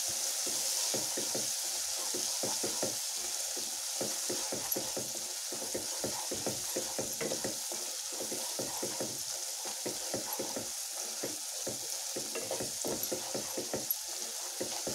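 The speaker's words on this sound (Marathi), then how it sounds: "आता मी तिखट, हळद आणि गरम मसाला पण टाकून घेते। हे चांगलं परतून घेऊया।" Chili powder, turmeric and garam masala are sautéed in a pan for a sprouted matki curry, with a soft, steady sizzle under rapid rhythmic stirring scrapes throughout, no talk.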